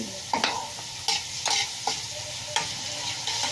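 Onion and garlic frying in melted margarine sizzle steadily up close, broken by regular scraping stirs about every half second to second, with no voices.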